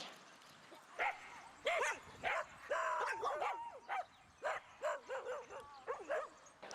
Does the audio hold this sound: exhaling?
no